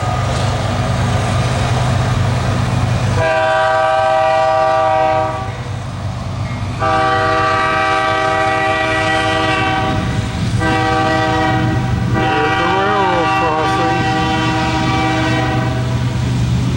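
A long, loaded ethanol freight train rolls past eastbound, its horn blasting in several loud sustained chords over the steady rumble and clatter of the tank cars, with no one talking.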